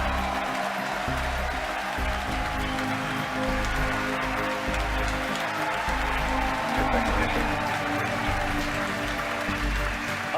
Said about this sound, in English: Again, over the cheering